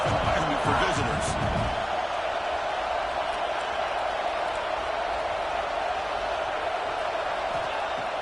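Stadium crowd roar in a college football video game, a steady, dense wash of cheering that stays loud throughout, with a few sharp thuds and bursts near the start.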